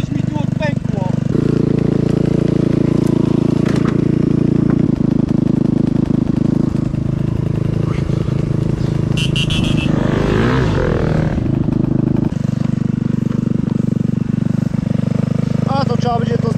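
A scooter engine runs loudly and steadily close by, its drone shifting pitch midway, with people talking over the noise.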